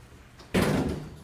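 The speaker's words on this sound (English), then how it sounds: "Now the door's closed." An elevator door slides shut with a single firm thud, a short burst that trails off into a low rumble. It sounds near and moderately loud.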